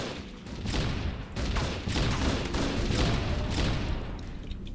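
A grenade launcher firing repeatedly in the Judge Dredd vs. Death game, producing a run of loud, evenly spaced blasts and thumps over several seconds, close and dominant with no talk.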